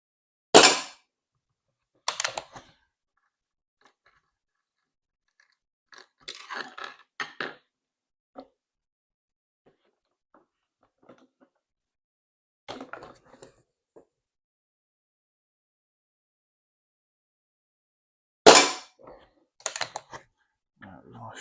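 Crosman 2260 .22 CO2 air rifle firing, three sharp cracks spaced several seconds apart, each followed by brief clicks and handling noise of the rifle, with quiet gaps between.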